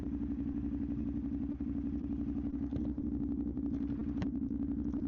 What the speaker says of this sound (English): I really like the way this bike sounds.